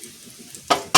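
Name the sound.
chopped onion added to hot oil, sizzling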